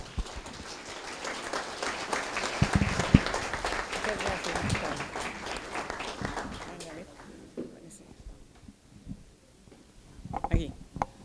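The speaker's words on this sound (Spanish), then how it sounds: "Un aplauso para la doctora." An audience claps for a doctor introduced as the next speaker at a university forum on migration. The clapping is moderately loud for several seconds, then fades out as a single voice starts talking nearby.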